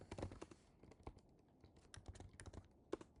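Rapid, uneven keyboard typing during a fighting game jam planning session, soft and close, with irregular clusters of key clicks and no talk.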